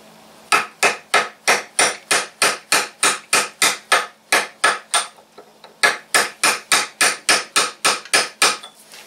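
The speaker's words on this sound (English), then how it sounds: "Okay, so I'm going to give that a little tap." Hammer tapping on a tractor PTO shaft, with about two dozen sharp metallic blows in a steady run, a brief pause near the middle, then more blows. The strikes are loud and close, and no one talks.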